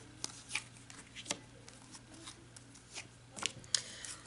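A deck of cards is shuffled by hand before a card reading, giving quiet, irregular riffling and snapping bursts spread across a few seconds, close and soft in an otherwise calm room.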